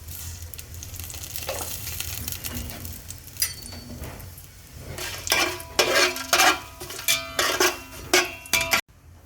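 Biryani masala and cardamom sizzle steadily in a hot pan for a vegetable basmati biryani, with a continuous frying hiss and sharp clinks of a utensil stirring against the metal toward the end.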